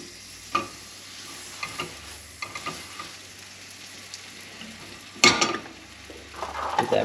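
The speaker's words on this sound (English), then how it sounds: "Get that bread toasted." Bread toasts in butter in a hot pan for piperada vasca, a soft steady sizzle broken by scattered clicks and scrapes of a utensil, with one sharper clatter near the end and no talking.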